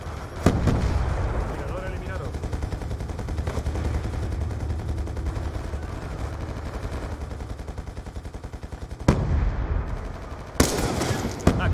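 Heavy gunfire and a blast fill a Call of Duty Black Ops 2 battle. Dense rapid shots rattle continuously at close range, sharp loud bursts break out near the end, and voices shout over the din.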